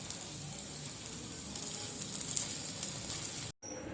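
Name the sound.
bread omelette sizzling in pan after flipping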